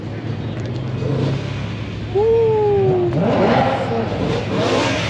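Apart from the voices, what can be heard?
single-turbo BMW 1M clone car revving at a car meet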